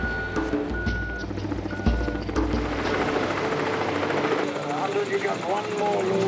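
A cargo helicopter resupplying an Antarctic base from a ship, a steady rotor drone with reversing beeps from vehicles nearby, heard continuously and fairly loud under a voice.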